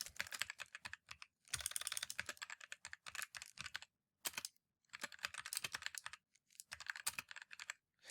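Fingers tap out a title on a computer keyboard in quick, uneven bursts of crisp clicks, close and fairly quiet, separated by short silent pauses.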